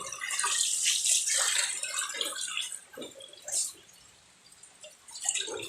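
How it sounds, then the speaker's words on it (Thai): Food rinsed again in a bowl of water, with close sloshing and splashing that rises and falls, dips briefly, then returns in short wet bursts, with no talking. "สิล้างอีกน้ำหนึ่ง"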